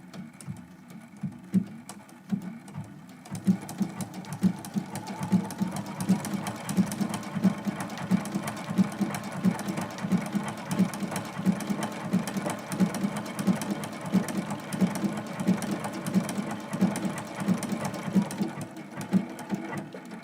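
A sewing machine stitches a blanket stitch along the edge of a Christmas quilt block, a close, steady, rapid mechanical chatter that runs almost without a break, with short pauses and shifts in pace.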